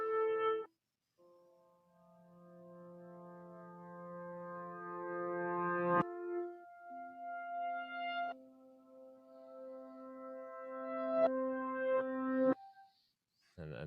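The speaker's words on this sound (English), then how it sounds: "I could reverse the sample so it'll play backwards" Sustained tonal notes that swell up and cut off abruptly, like piano samples played in reverse, several phrases in a row with no talking.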